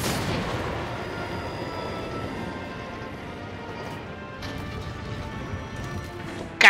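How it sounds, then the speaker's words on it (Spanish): A Dragonator cannon fires in Monster Hunter World, a heavy booming blast at the start that fades into a long rumbling, crashing wash of noise that holds steady, with another sharp hit right at the end. "¿De dónde disparo el Dragonator?"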